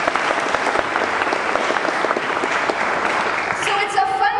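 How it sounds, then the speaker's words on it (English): An audience at a science teachers' keynote talk breaks into steady, dense applause that continues for several seconds and then thins out as a voice starts up near the end. "Give her a round of applause."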